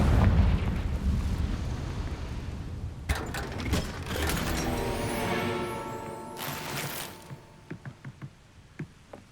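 A Confringo fire spell explodes in Hogwarts Legacy with a loud burst and rumbling roar that swells and fades. Sharp crackles and a second blast follow, then a run of small pops and hits.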